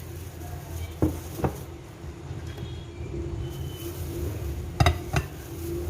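Chopped ginger, onion and green chillies go into a cooking pot, heard as a few sharp clinks and taps against the vessel over quiet kitchen background noise.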